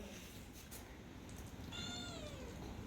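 A cat gives one clear, drawn-out meow at a farmhouse in rural Konkan. The cry is close but faint, heard over a low background rumble.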